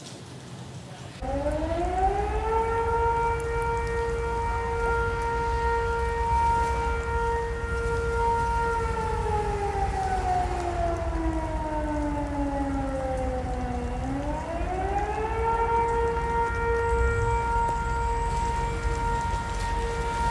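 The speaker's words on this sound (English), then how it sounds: "are hearing flood sirens from across the border" A long wailing flood warning siren in British Columbia holds a steady tone, slowly sinks in pitch, then climbs back, sounding from a distance over steady atmospheric-river rain.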